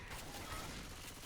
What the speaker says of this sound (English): Ammo here. I'm reloading.